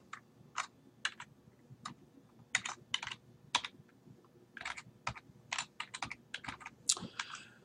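An email address typed on a computer keyboard: quick, crisp key clicks in irregular bursts and short pauses, close and moderately quiet, with no one speaking.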